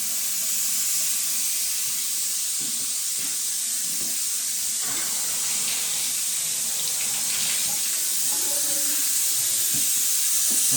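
Water running steadily as air is bled out of a water heater tank, a constant close hiss and rush with faint gurgles and small knocks underneath, no talking.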